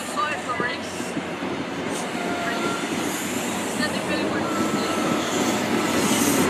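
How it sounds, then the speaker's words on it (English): Class 43 diesel locomotive 43002, carrying a Sir Kenneth Grange nameplate, rumbles past at a station with a broad, steady roar and some wheel noise, loud and close throughout. "Now all of a sudden, smell that diesel air."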